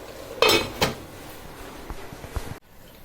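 Gourd and meat curry being stirred in a pot, with a couple of sharp utensil clanks against the metal early on and softer scraping knocks after, close and moderately loud, without talk.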